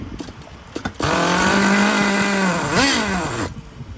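A nitro RC engine with ABN sleeves, running on a castor oil fuel mix, revs hard and loud for about two and a half seconds. It bursts in abruptly with a rising, buzzing whine that dips and surges before cutting back.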